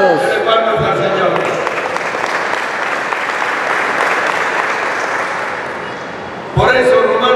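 Church congregation clapping during a Saturday sermon, a loud, continuous roar of many hands that swells and then tapers, with a voice speaking over it at the start and returning at the end.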